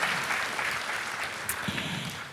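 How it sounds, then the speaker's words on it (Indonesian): A church congregation claps during a Sunday service, a steady wash of applause at moderate distance, fairly quiet with a few brief accents. "Yang mau kasih tepuk tangan dong buat Tuhan kita Yesus Kristus."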